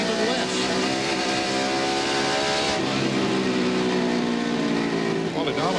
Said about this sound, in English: And we see Martin, we listen to his engine and how little he's using the accelerator.